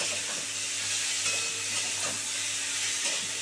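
Vola fish curry with potatoes is stirred in a pan over heat, a steady broad sizzle and hiss with soft scraping strokes, close and continuous.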